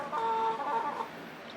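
Chickens eating hay cluck close by in a barn during morning chores, giving a brief run of soft, throaty clucks.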